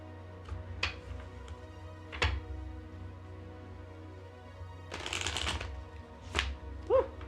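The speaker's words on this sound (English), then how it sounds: "Let's see if we can riffle shuffle these babies." A deck of oracle cards is riffle shuffled, giving a few short papery riffles and a longer fluttering burst with small taps between them, quiet and close with no talking.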